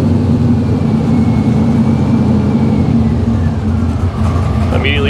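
A fuel-injected 1955 Chevy Nomad engine runs steadily and loudly throughout, with a dense low rumble and slight rises in revs, while a voice talks over it.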